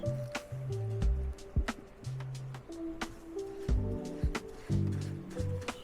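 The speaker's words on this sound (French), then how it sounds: "on a activé le savon dans l'eau, là." A small sponge works leather soap into water for cleaning Red Wing shoes, giving wet squishing and dripping sounds in close, uneven bursts, with a faint tonal hum in the background.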